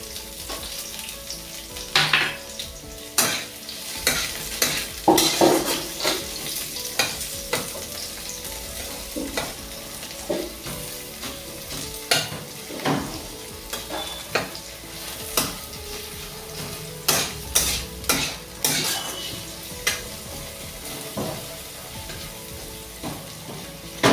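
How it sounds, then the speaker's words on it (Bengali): Chopped onion frying in a pan with garlic, a steady sizzle broken by frequent sharp crackles and stirring scrapes across the whole stretch, close and fairly loud, with no voices. "পেঁয়াজ কুচিটা দিয়ে দিলাম।"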